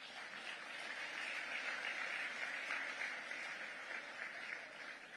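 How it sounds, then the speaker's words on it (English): An audience at a formal awards gala in New York applauds itself, a steady, sustained wash of many hands clapping heard from a distance and fairly faint, with no talk over it. "please give yourselves a round of applause"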